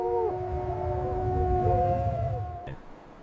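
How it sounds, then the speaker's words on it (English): A wolf gives a long, steady howl at moderate distance, one sustained note that bends slightly and fades toward the end, with no voices. "A howl becomes a map, binding the pack through sound alone."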